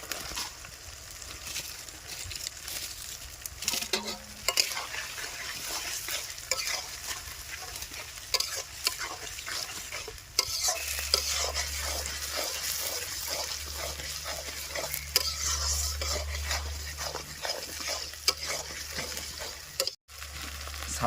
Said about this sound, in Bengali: এবার এগুলো একসাথে সব নাড়িয়ে নেব।